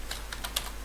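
A few quick keystrokes on a computer keyboard while Flutter code is typed, four or five soft, close clicks in a brief run over steady low hum.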